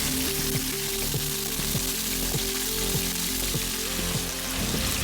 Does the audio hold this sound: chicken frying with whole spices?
yes